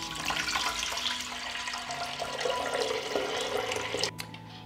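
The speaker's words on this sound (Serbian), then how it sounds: "Moj lonac je zapremine 6 litara i dodajem litar hladne vode." Cold water, about a liter, pours into a 6-liter pressure cooker holding closed jars. A steady, close rushing pour runs without a break, then cuts off sharply near the end.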